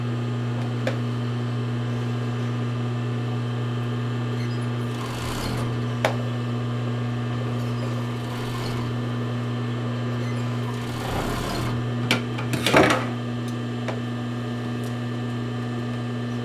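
A sewing machine stitching elastic onto sports bra fabric hums steadily and close throughout, with a few brief clicks and a short burst of handling noise near the end.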